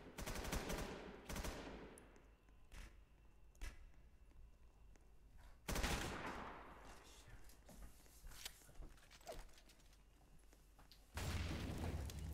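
Gunfire in the Roblox game rbreach comes as several loud bursts and single shots spread over the span. Quieter footsteps and rustling fall between them, and people talk throughout.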